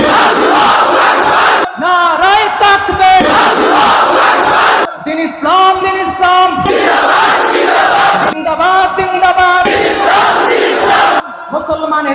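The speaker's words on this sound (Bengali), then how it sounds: "সবাই মিলে একই তালে দাও না স্লোগান" A crowd at a religious gathering chants slogans in unison, loud and rhythmic, with repeated call-and-response phrases broken by short pauses.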